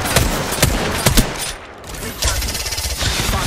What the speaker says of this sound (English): I am taking fire, friend.